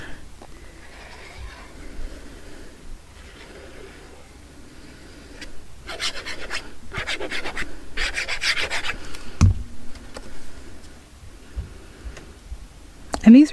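Trimming excess thin, papery card stock for a homemade junk journal, with scratchy cutting and rubbing strokes in bursts, louder toward the middle, while a person talks.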